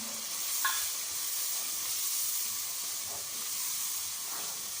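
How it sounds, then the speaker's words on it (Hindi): Green chili, ginger and garlic paste fry in a pan for an aloo matar shorba, giving a steady close sizzling hiss with light stirring, and no voices over it. "यहाँ पे हम सब्ज़ मिर्च, अदरक और लहसुन का पेस्ट भी डाल लेते हैं और इसको अच्छी तरह भून लेते हैं।"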